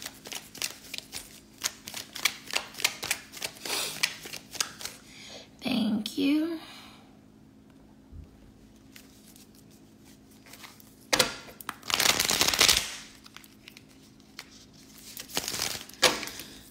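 A deck of cards is shuffled up close in a few crisp, rapid fluttering bursts, separated by quieter handling noises and pauses.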